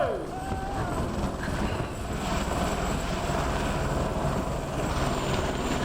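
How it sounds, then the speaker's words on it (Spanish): A helicopter maneuvers on approach at very high altitude on a K2 expedition, a steady, dense rotor and engine roar at constant loudness throughout. "haciendo la maniobra de aproximación de los helicópteros"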